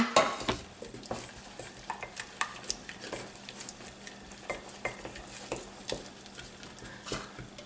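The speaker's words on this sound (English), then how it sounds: "I've made a roux. So that's the butter and the flour together, and then I'm just going to add the milk bit by bit now" A whisk or spoon stirs milk, added bit by bit, into a butter and flour roux in a pot for macaroni cheese. Steady rhythmic scraping and soft sizzling sound close by, with repeated clinks against the pan and no voices.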